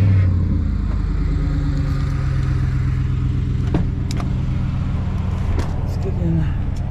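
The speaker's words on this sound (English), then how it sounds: "Another cold start." A Chevrolet Silverado pickup runs after a cold start with a steady, loud, low rumble throughout. A few faint clicks and knocks sit over the idle, and a voice speaks briefly near the start.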